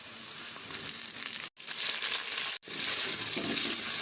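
Chicken goes into frying onions in a karahi with a loud, dense hiss and sizzle that cuts out briefly twice before carrying on at full strength.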